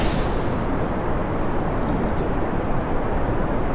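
Rocket engine roaring at full throttle during launch in the video game Kerbal Space Program, a loud, steady, broadband rumble that holds without a break.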